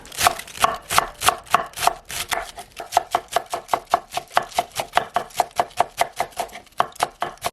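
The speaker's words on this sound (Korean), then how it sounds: "양배추를 채쳐서 물에다 담궈 놓을 겁니다." A knife shreds 400 g of cabbage on a board, producing a fast, steady run of about thirty crisp, evenly spaced chops that stay close and loud for the whole stretch, with no talking.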